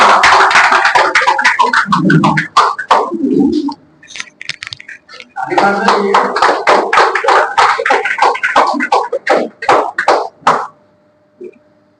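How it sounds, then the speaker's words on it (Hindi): A seated audience at a company meeting in Kahalgaon claps loudly and continuously, with dense overlapping hand claps. There is a brief dip partway through, then a second long round fades to silence near the end. "ताली बजनी चाहिए।"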